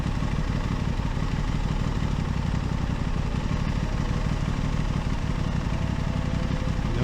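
An Aprilia RS660 motorcycle engine runs at a steady, loud, dense drone with no change in pitch or level, heard close.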